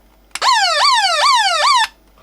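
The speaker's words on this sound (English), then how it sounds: "The siren works." An Amigo 5 wind-up radio sounds its siren: a loud, close electronic wail that rises and sweeps up about three times in quick succession, then cuts off abruptly.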